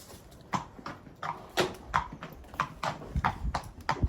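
Hooves of an Anglo-European sports horse clip-clop in a steady walking rhythm at a stable, each hoof strike distinct and moderately close, with no talking.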